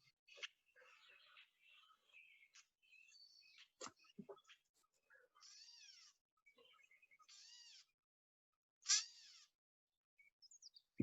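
A bird in Lewis & Clark Caverns gives a series of scratchy, cat-like mewing calls, some drawn out and slurred, with short gaps between them, fairly faint with no other sounds.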